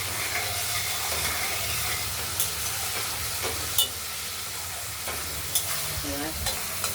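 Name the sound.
spice paste sautéing in oil for katla fish curry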